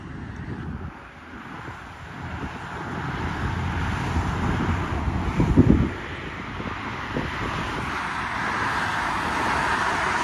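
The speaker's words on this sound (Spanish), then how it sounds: "Miren nomás, cómo pasan de recio esos carros" Cars rush past on a roadside, a steady roar of traffic and wind buffeting the microphone, with one louder pass swelling near the middle before the noise settles back to a continuous rumble.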